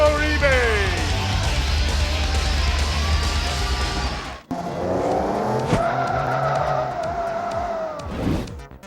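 Race cars in Forza Motorsport 2 screech with sustained tire squeal over roaring engines, then a cut to another skid with rising and falling engine whine; a commentator talks over the racing.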